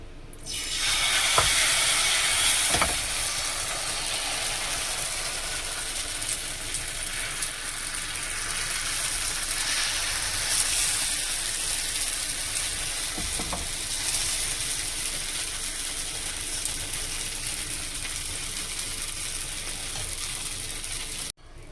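Dosa batter sizzles on a hot frying pan, a steady close-up hiss with faint crackles and occasional scraping taps that carries on for about twenty seconds before cutting off.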